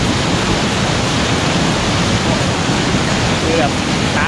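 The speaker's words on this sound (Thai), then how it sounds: "เรามาถึงขั้นที่2แล้วน้ำตกแรงมากคือแบบนี้ครับ" Krok I Dok waterfall in Khao Yai National Park, on its second tier, gives a loud, steady roar of heavily falling water that stays broadband and unbroken from start to finish, close and constant.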